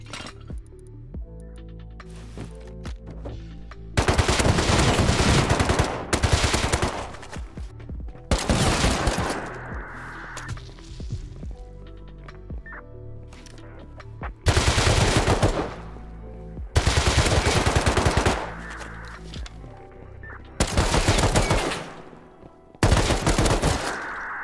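Bursts of automatic gunfire from an auto turret in the Rust video game, heavy machine-gun volleys repeating in several loud, sustained stretches separated by quieter gaps, with faint clinks between them.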